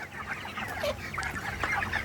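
Chickens on a poultry farm cluck steadily in a dense, busy flock, the overlapping calls filling the short stretch close by.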